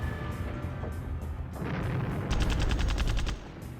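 Game-sound gunfire and artillery roll through a tabletop Epic 40K battle between Tallarn Desert Raiders and Orks, a dense rumbling barrage that builds into rapid repeated bursts before cutting off, loud and sustained.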